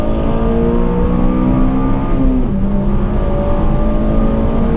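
A Honda Civic Si engine drones steadily on a race track, a loud sustained whine whose pitch slides slightly as it holds revs, with no other sounds.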